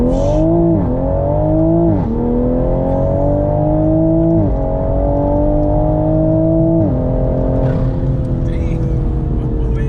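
A JB4-tuned Toyota GR Supra with an aftermarket intake and catted downpipe revs hard during a burnout attempt, its loud, close engine note climbing and dipping in repeated surges over a sustained drone.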